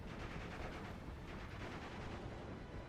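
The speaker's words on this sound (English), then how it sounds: "All about the machine gun." Distant, dense battlefield gunfire from the WWII strategy game Steel Division 2, with MG42 machine guns rattling in a continuous steady wash of overlapping shots mixed with broader combat rumble.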